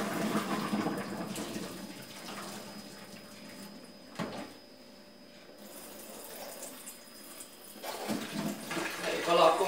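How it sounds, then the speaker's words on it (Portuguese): Water poured out of a pot of beans while preparing feijoada, a steady running splash into a sink that pauses briefly mid-way and resumes louder toward the end, with some talking over it. "Vou estar despejando essa água aqui."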